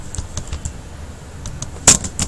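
Typing on a computer keyboard while setting up a Django virtual environment: a few soft, irregular key clicks with one sharper keystroke near the end, close and alone.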